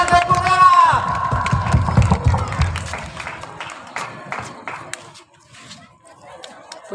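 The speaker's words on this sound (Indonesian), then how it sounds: "kami minta dukungan dari Bapak Ibu. Mari berikan tepuk tangan." Crowd at a 25th-anniversary school celebration cheers and claps around a Nias pencak silat performance, busy mixed applause with shouts and scattered claps, voices talking over it and the noise thinning out near the end.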